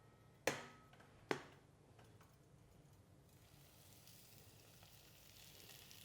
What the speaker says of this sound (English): when you take your salmon, you just want to carefully lay it into your oil